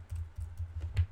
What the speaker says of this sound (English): I'm gonna type this out so you understand what I'm saying